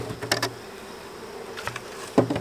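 Honey bees buzzing around a swarm trap hive being moved outdoors, a faint steady drone with a few brief louder passes as individual bees fly close to the microphone.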